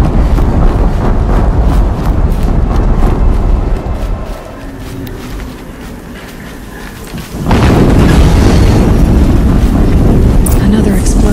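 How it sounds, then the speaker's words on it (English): Explosions boom in the video game Horizon Zero Dawn: a loud, broad rumbling roar that fades and dips for a few seconds, then surges back at full force, with windy, stormy noise throughout. "Another explosion."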